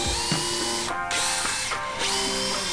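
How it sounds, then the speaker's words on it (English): A power drill whirs in several short bursts, steady and close, drilling holes in the handle of a dagger forged from a file, with brief pauses and gear-like clicks between runs. "And now we'll drill out our handle."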